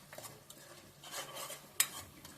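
A utensil stirs chopped onions with rock salt in a pan, making soft scraping and clinking strokes with one sharper clink near the end, quiet and close with no talk.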